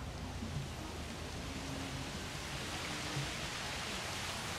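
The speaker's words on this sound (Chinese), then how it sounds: "下雨了。" Soft, steady rain falls in the dinosaur park game Jurassic World Evolution, an even faint hiss that holds unchanged throughout.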